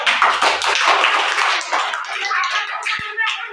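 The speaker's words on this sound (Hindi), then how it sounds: "सब एक बच्चे के लिए ताली बजाओ" An audience gathered around a child breaks into brisk, dense applause close by, sustained for a few seconds before thinning out, with a sharp knock near the end.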